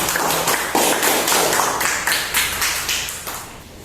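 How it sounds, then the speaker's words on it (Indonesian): Classroom applause in an Islamic religious education teaching session, a small group of students clapping together in a quick, uneven patter that tapers off toward the end. "tepuk tangan untuk kelompok 1, 2, dan 3"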